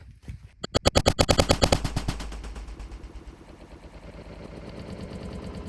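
A SIG M17 pistol fires 147 grain HST rounds into ballistic gel through heavy clothing: a rapid string of sharp, loud reports close up, then a long decaying ringing echo.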